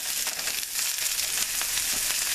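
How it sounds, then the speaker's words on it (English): Green pepper, onion and mushrooms sauté in a pan, giving a steady close sizzle with crackling spatters and light stirring scrapes throughout. "keep stirring this up and saute it for probably, give or take, about 10 minutes"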